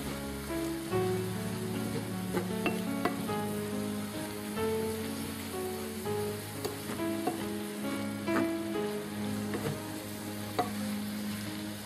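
Bolognese sauce bubbling in a hot pan makes a steady sizzle with scattered spatters and spoon taps as it is stirred, over a faint tonal background.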